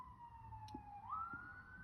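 Emergency vehicle siren wailing outdoors, a steady rising and falling tone heard at a distance under quiet background hum.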